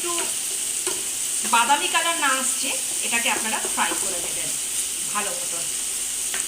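Onion fries in a pan with a steady, bright hiss and sizzle that runs throughout, while someone speaks over it in the foreground.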